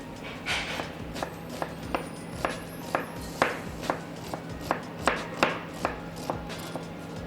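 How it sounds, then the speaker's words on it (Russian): A knife chops an onion into small cubes on a board, about a dozen sharp, evenly spaced taps over a faint steady hum, with no talk. "мы его порежем на мелкий кубик. Пока режу лук"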